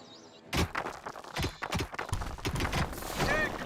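Horses' hooves clip-clop in the video game Dungeons 2, a run of sharp hollow knocks that starts abruptly after a brief quiet moment, with a voice talking alongside.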